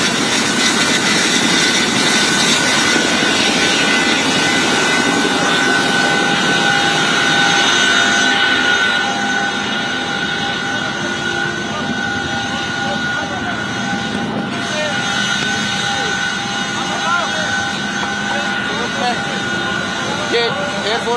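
Loud, steady rotor and engine roar inside an Indian Air Force Chinook helicopter in flight, a dense continuous drone that fills the whole clip, with voices talking over it.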